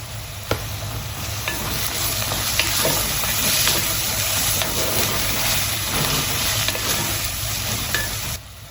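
Ginger garlic paste sizzles and fries with onions in a hot pan, a steady broadband crackle with occasional stirring scrapes, close and continuous throughout.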